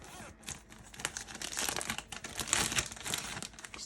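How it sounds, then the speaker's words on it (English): A Ziploc plastic bag crinkles and rustles continuously while being handled in a kitchen, near and fairly loud, with irregular bursts of crumpling and no talk. "Okay, got a Ziploc here."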